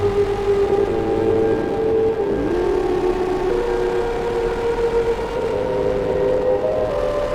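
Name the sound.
tiny modular synthesizer system producing experimental sounds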